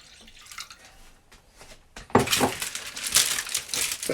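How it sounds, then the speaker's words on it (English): Cold water poured into a dish over beef and vegetables for slow-cooked BBQ beef, a quiet rustle giving way to a loud, splashing gush that runs steadily for about two seconds. "And then you want to add a pint of cold water."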